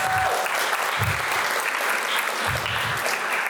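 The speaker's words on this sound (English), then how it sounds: "Give them a round of applause" Continuous applause at an autumn journalism mixer dinner, honoring SPJ Western Washington, a full even wash of clapping from a sizable crowd, with a few low thumps beneath.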